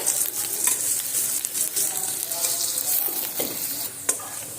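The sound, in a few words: chopped onion frying in oil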